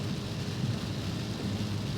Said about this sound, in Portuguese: Olha quanta chuva e muito frio também.